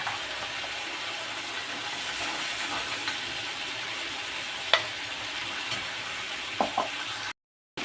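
Masala frying in oil makes a steady hiss and sizzle while a utensil stirs, with occasional clinks against the pan and a brief silence near the end.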